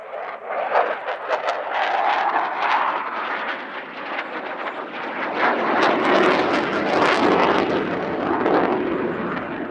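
A Eurofighter Typhoon jet flying a display at Cosford Airshow, doing a negative G push while venting fuel from the tail: a loud, rushing jet roar that swells and surges with crackling bursts, continuous and building toward the end.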